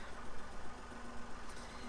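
A heavy farm tractor idles nearby with a steady, rumbling engine drone that holds constant and fairly loud throughout, with no talking.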